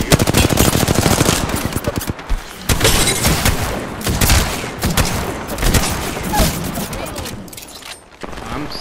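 Dense automatic gunfire rattles through an Apex Legends match, loud, near and nearly continuous in fast bursts with brief gaps, a voice speaking over it.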